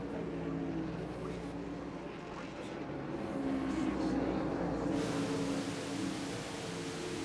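NASCAR stock cars race down the straightaway at Watkins Glen in 1989, a steady, loud engine roar that swells slightly in the middle, heard from inside a car.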